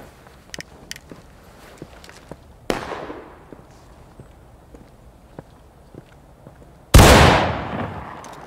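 Skirmish shooting training: one gunshot cracks near the middle and a much louder close report follows later, each with a decaying echo, and quiet footsteps and clicks fill the gaps between them.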